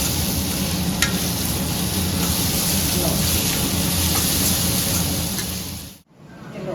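Masala roasting and being stirred in a pan for a bitter gourd curry gives a steady, dense sizzle that runs continuously, then cuts off abruptly near the end.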